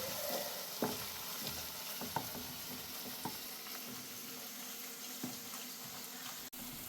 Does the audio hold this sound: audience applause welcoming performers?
no